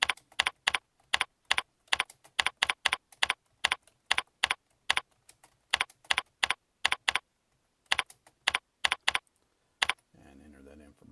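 Bursts of keystrokes on a computer keyboard come in quick clusters with short pauses, close and crisp, as problems are typed into a form; a brief low hum follows at the end.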